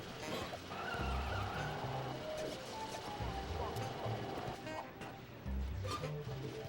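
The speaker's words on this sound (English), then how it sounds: "driving these cars is really unpredictable" Cars driving in the video game LittleBigPlanet: a steady mechanical engine hum with skidding, rumbling bursts and background game sound, continuous and moderately loud.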